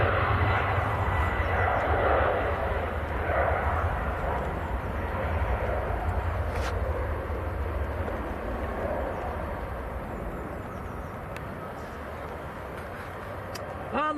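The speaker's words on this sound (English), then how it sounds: "It's Ryanair just about to get airborne." Jet engines of a Ryanair airliner lifting off at Manchester give a distant, sustained roar that slowly fades, with faint talk in the background.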